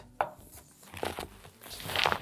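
A knife slices the root end off garlic on a cutting board while savory baked beans are prepared: a few soft, close cuts and taps spaced about a second apart, with no talking.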